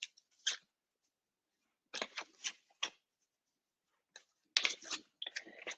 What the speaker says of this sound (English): let's do a bit of a shuffle.